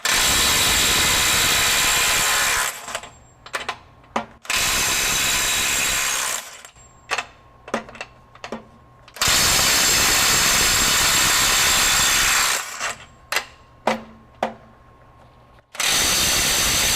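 A RIDGID 18V right angle impact wrench running in reverse at speed 3 on a full 6 amp-hour battery hammers in long, loud sustained bursts, separated by quieter gaps of short clicks and brief trigger blips.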